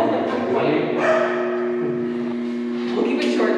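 A dog whimpers with thin, sustained whining tones and gives brief yips inside an underground control room at a restored Nike missile site; the sound is close and fairly loud.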